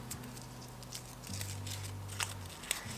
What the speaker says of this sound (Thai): ถ้ามันยังแบบว่า ยับไม่พอแล้วก็ขยำเพิ่ม